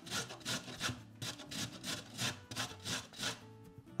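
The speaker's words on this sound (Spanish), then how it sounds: "La zanahoria también la vamos a rallar." A carrot is rubbed down the medium side of a hand grater in quick, steady back-and-forth rasping strokes, close and fairly loud with no talking.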